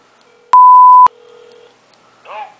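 A telephone on speakerphone sounds one loud, steady electronic beep framed by sharp clicks, followed by faint tones and a short, soft burst at the end.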